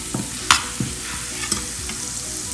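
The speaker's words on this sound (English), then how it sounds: "Once oil gets heated, just mix the spices." Spices are stirred in hot oil in a pan for a palak and moong dal curry, a steady close sizzle and fry with a few scraping stirs of the spoon on top.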